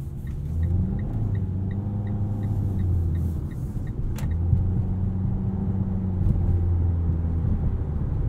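A 2022 Mitsubishi Eclipse Cross SEL 4WD with 152 horsepower and a CVT gives a steady low engine drone and road rumble from inside the cabin while driving, with a soft, restrained transmission whir and faint ticking in the background.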